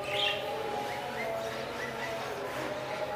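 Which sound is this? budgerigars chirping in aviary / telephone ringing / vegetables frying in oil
budgerigars chirping in aviary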